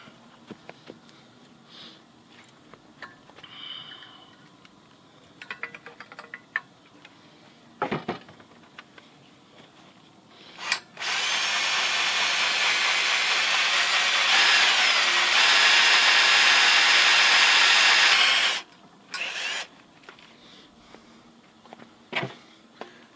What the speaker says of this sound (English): I think I'm through the plate steel and I'm onto the pipe now